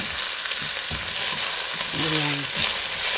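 Celery and onion sizzle steadily in a hot pan for a stir-fry with asparagus and oyster sauce, a constant loud frying hiss with a few soft stirring knocks and a brief tonal scrape.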